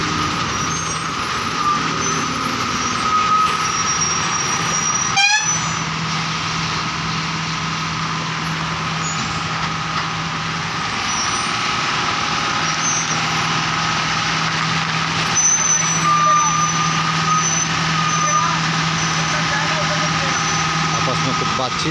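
An Ashok Leyland 4019 truck engine drones steadily from inside the cab while other vehicles pass outside, with one sharp hiss or thump around a quarter of the way in and continuous road noise throughout.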